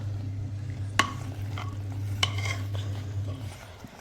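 Steady low bubbling simmer of saag in a pot with a couple of sharp spoon clinks against the rim as it is stirred; no talking.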